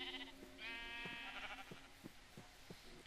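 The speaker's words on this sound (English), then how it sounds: "I saw some sheep." In the Minecraft video game with the Millenaire mod, sheep give a single thin, nasal bleat over a faint, regular run of soft thuds. The sound is quiet, with no speech.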